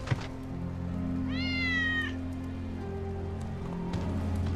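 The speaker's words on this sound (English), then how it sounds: "That's Wedge's cat." A single clear cat meow, rising and then falling, from Wedge's cat in Final Fantasy VII Remake, heard over a steady bed of game rain and low ambient hum.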